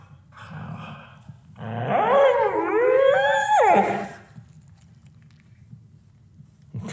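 A golden doodle lets out a long, drawn-out yawn that rises into a whiny, howl-like squeal, loud and close for about two seconds against a quiet room.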